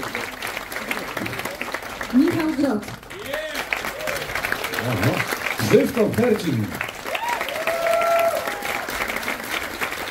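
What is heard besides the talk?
audience applause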